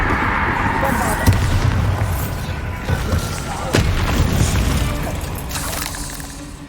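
Bombarda explosion spell in the Hogwarts Legacy video game, heard as repeated booming blasts with sharp transient hits near 1.3 and 3.8 seconds over a dense, rumbling battle bed, with a voice speaking through it.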